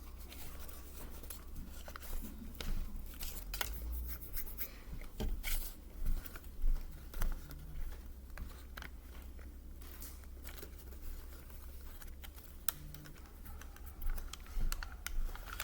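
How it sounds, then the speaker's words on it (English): Paper for an origami flower tessellation is folded along existing creases as it collapses, giving soft, close crinkles, taps and rustles scattered irregularly throughout over a low background hum. "now we're gonna collapse it. So let's just fold on the existing creases."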